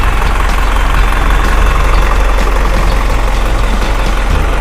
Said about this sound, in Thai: เดี๋ยวเรามาชมสภาพเครื่องยนต์ นะครับ เครื่องยนต์นะครับ 150 แรงม้านะครับ เทอร์โบอินเตอร์นะครับ